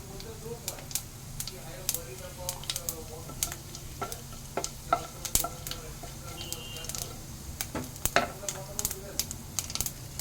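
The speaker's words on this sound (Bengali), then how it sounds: "তেলটা গরম হয়ে গেছে, আমি 1 চামচ 5 ফোড়নটা" Panch phoron spices drop into hot oil and sizzle softly at low level, broken by sharp crackles and pops, with faint background voices and a stirring utensil now and then.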